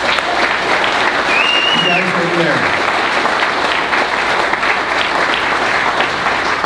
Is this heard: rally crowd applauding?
yes